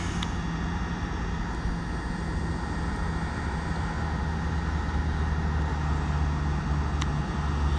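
A camera drone flies around a city at dusk under wildfire smoke, a steady, continuous droning hum with no talk.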